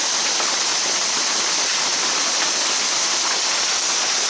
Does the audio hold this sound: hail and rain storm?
yes